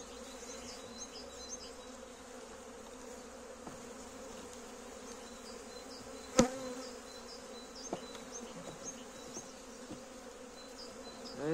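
Honeybees buzz steadily at an open hive during early April spring expansion, a dense close hum with individual bees droning past, a sharp knock near the middle and faint clicks of frame handling, no talk.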